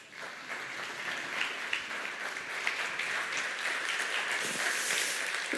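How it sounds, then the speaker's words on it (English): Sustained audience applause fills the room at an evening demo-day event after a speaker is introduced, a steady wash of many hands clapping at moderate loudness with no voices over it. "Big applause for Cosima Vallas."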